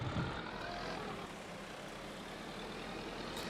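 Old tractor engine warming up in a farming video game, a steady low rumbling idle with a constant droning hum, moderately loud and unchanging, heard on its own.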